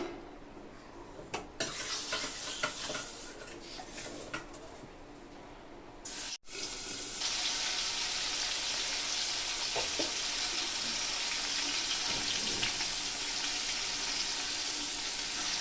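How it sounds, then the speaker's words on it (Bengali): Tangra fish hit hot mustard oil in a kadai with a brief clatter and pause, then a loud, dense, continuous sizzle that holds steady to the end. "তো তেলটাকে আমি ভালোভাবে গরম করে নিয়েছি এবার মাছগুলোকে ভেজে নিব"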